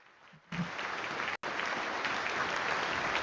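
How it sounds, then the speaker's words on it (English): An audience at a Mandela Day 2021 celebration in South Africa applauds steadily, the dense clapping starting abruptly after a brief quiet moment and continuing with one very short dropout. "So, give a round of applause for Dr. Cathy Whitney."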